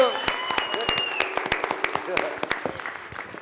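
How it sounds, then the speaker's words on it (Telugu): Audience clapping at a film success press meet, a dense burst of applause mixed with overlapping voices and chatter, fairly close and steady before thinning out toward the end. "ఒక్కసారి అందరూ భైరవ్కి గట్టి ఒక చప్పట్లు కొట్టండి మా కోసం"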